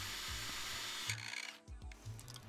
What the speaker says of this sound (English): Then I'm using an 1/8 inch drill bit to drill a pilot hole through here.